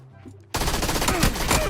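A sudden burst of rapid, loud automatic gunfire in PUBG, sustained and dense after a quieter start.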